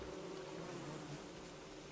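Steady low buzzing of bees in the video game Don't Starve Together, a constant droning hum with no talk over it.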